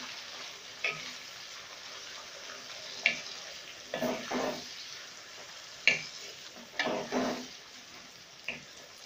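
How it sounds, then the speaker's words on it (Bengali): Veg mutton fries in a pan over a gas flame, with a low background sizzle broken by intermittent scrapes and clacks of a spatula stirring the pieces, close and moderately quiet. "মাংসটাকে জাস্ট ফ্রাই করে নেব"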